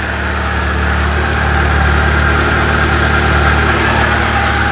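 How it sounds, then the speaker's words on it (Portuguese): A Fiat Tempra with an 8-valve engine idles steadily up close, a loud, even, smooth mechanical rumble with a constant low hum and no revving. "Olha, olha que motorzinho redondinho, galera."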